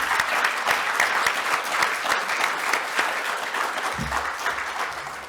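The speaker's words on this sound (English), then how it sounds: "If you could all just join me in a round of applause." An indoor audience at a disaster-resilience strategy launch in Queensland claps steadily and loudly throughout, with dense sustained applause that tapers slightly at the end.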